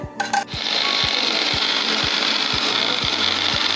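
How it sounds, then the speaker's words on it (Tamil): A kitchen blender whirs loudly and steadily while mixing rawa cake batter. Low knocks repeat about twice a second under the motor's drone. "நல்லா பிளெண்டர்லேயே போட்டு மறுபடியும் வந்து நல்லா பிளெண்ட் பண்ணிக்கோங்க"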